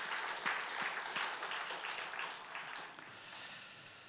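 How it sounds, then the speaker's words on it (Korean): A church congregation at a Sunday service applauding together, a steady wash of clapping that fades slightly toward the end, heard at a moderate distance. "우리 다시 한번 하나님께 영광의 박수 한번 올려드리겠습니다"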